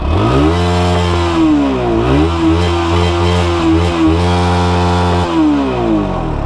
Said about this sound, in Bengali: আমি সাউন্ডটা আপনাদেরকে শোনাই দেখাই, দেখতে একদম স্মুথ। ফার্স্টে যখন গাড়ি চলবে তখন একেবারেই স্মুথ, দেন যদি অতিরিক্ত আরপিএম দেই